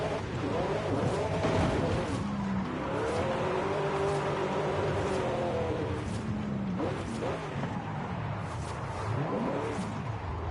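A Corvette with a stock engine in a driving video game revs and shifts through rising and falling gear sweeps, loud and continuous, with tire noise mixed in across the whole stretch.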